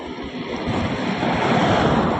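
Water flows beneath a bridge along a route through areca and banana groves in the Western Ghats, a loud, continuous rushing wash mixed with wind buffeting, steady and close throughout.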